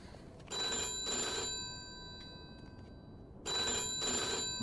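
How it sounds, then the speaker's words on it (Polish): A telephone rings in the video game Mafia II: two bursts of a bright, metallic bell ring, each a double ring, separated by a quiet pause, clear and alone without talk. "odbierz ten telefon"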